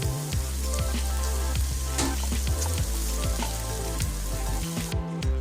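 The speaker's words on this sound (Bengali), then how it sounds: "পেঁয়াজটা একটু লাল লাল করে ভেজে নেব। এরপর কাঁচামরিচ দিয়ে দিচ্ছি।" Onions and green chilies fry in a pan with a loud, steady sizzle throughout, broken by repeated scraping stirs of a utensil, close up and without talk.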